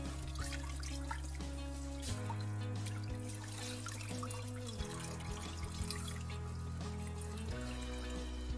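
Water trickles and drips steadily as neem kernel extract is squeezed by hand in a container, a soft continuous splashing with occasional louder dribbles.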